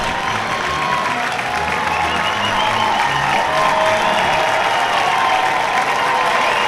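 A baseball crowd applauds and cheers for the Panthers in the fifth inning, a dense, steady roar of clapping and voices that holds at a loud level throughout.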